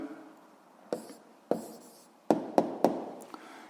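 A pen writes out an answer by hand during a physics exercise, with several short sharp taps and strokes on paper against a quiet room and no talking.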